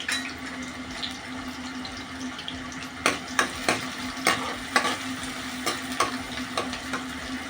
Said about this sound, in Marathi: तेल तापलेलं आहे आता आपण कांदा टाकूया फोडणीला